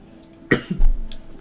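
A single sharp cough close to the mic, followed by a short throaty rasp and some low rumble.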